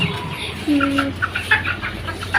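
Chickens cluck nearby in a short series of rhythmic clucks, with one drawn-out call among them.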